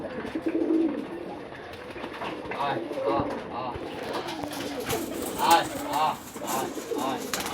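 Local high-flyer pigeons cooing repeatedly nearby at a house in Rajshahi, soft throaty calls overlapping, with a person talking over them.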